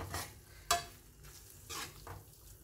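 Egg masala curry being stirred in a frying pan, dhaba style, with a few scraping stirs and a sharp metallic clink against a soft sizzle, close and alone.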